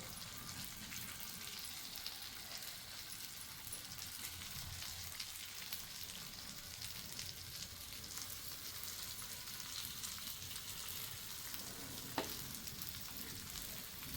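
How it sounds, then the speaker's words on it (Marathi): Corn pancake batter cooks on a pan over low to medium flame, a continuous even sizzle and crackle throughout, close and steady with no voices. "आणि आता ह्यावर हे पॅनकेक्स असं बॅटर घालते आणि आपल्याला किती छोटे मोठे हवेत त्याप्रमाणे हे असं पसरवून घ्यायचे"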